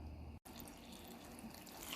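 Water poured into masa harina corn flour (Maseca) to make dough for huaraches, a steady continuous trickle and splash close by, with a brief drop-out partway through.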